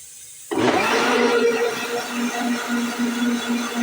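A kitchen blender starts abruptly and grinds papaya juice with a steady, loud whirring hum that keeps going for the rest of the clip.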